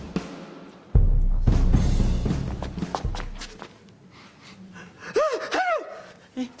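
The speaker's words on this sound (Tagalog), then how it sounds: "Ba't ka bumahing?" A sneeze in a comedy commercial spoof bursts out with a loud sharp gasp and a noisy expulsion near the start. Breathy movement sounds follow, then brief vocal squeaks near the end.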